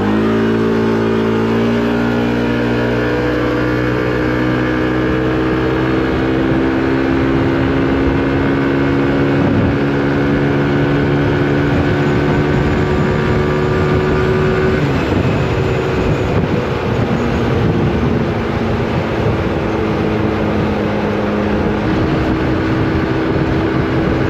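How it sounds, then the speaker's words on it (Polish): A Honda Forza 125 scooter fitted with a Malossi variator drones loudly and continuously as its engine climbs through the rev range toward about 100 km/h, the pitch rising gradually over a long run. "na jakim zakresie obrotów pracuje ten silnik"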